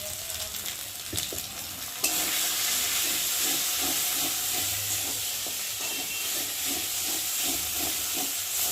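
Potol korma is stirred in a frying pan: a loud, continuous sizzle with a faint rhythmic scrape of the spoon repeating beneath it, with no voices.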